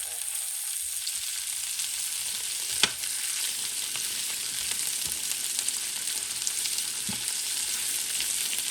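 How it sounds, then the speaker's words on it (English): Vegetables caramelize in a paella pan with a steady, close sizzle and frying hiss that holds throughout, broken by one sharp utensil clink partway through and a few softer stirring knocks. "I'm going to caramelize it a little bit"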